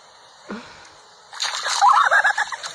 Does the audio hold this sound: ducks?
yes